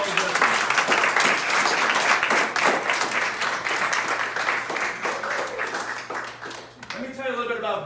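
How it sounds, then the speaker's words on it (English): Audience applause for veterans at a Mesquite Republican Women's gathering: a dense, steady wash of many hands clapping that continues for the whole stretch, fading a little near the end, with a voice emerging briefly at the close. "Let's do a round of applause for all the veterans."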